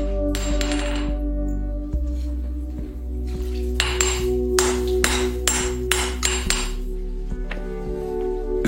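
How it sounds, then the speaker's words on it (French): Steel is hammered while a Japanese katana is forged, with sharp metallic ringing strikes coming in bursts, a few single blows, then a cluster of heavy hits over a constant low hum. "on poursuit la frappe du métal pendant près de 10 heures"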